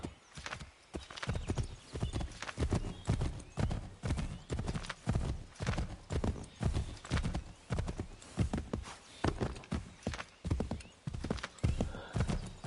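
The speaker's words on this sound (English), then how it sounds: "I love my horsey, and my horsey love me." Horse hooves clip-clop in steady rhythmic beats across Assassin's Creed 3 gameplay, loud and continuous, with an occasional whinny mixed in.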